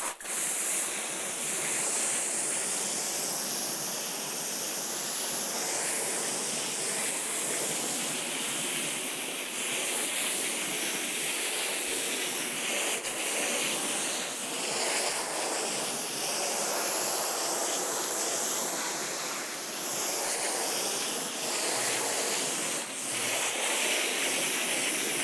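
A water spray rinses soap out of a quilt as a steady, loud hissing rush. The wash of water runs continuously for the whole stretch, close by and unbroken, with no talking.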